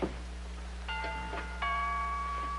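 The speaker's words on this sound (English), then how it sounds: "would you mind answering the doorbell" Soft electronic doorbell chime, two or three gentle tones ringing out and lingering, heard indoors over a steady low hum.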